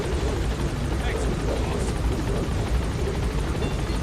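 The Pequod helicopter in Metal Gear Solid V: The Phantom Pain gives a steady, loud rotor roar at the landing zone that runs through the whole stretch, with voices faintly present under it.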